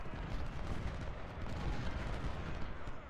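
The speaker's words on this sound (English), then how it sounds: "some canister fire from 2 batteries into Sinclair's" Canister artillery fire from two batteries in the Ultimate General: Civil War video game, a dense, continuous rumble of overlapping booms and crackling shots, loud and sustained throughout, with no speech.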